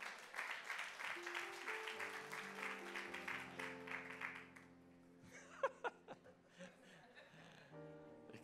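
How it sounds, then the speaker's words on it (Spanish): A crowd applauds with sustained clapping that fades after a few seconds, followed by some sparse sounds and a sustained musical tone. "dele un aplauso bien fuerte a nuestro Dios"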